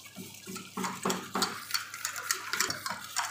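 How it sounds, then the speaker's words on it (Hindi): A spoon clinking and scraping in a bowl while mixing a marinade of black pepper, coriander, ghee and lemon juice for mutton, quick uneven strokes heard close up with no talk. "और अब कर देते हैं इसको मिक्स।"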